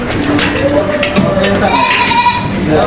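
Goats bleat amid livestock auction market crowd noise and nearby chatter as they are loaded, a few calls rising above the steady background.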